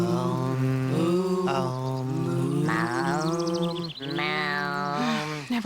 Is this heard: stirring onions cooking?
no